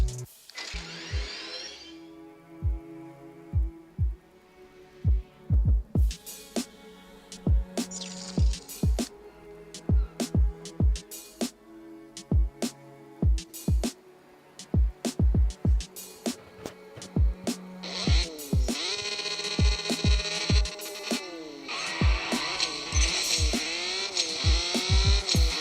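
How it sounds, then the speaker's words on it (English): A sports car in CSR Racing 2 runs on a dyno and then a practice run, engine revving and rising through the gears, with sharp clicks and shift bangs, ending in a loud sustained high-revving drive. "Here is the dyno and the practice run."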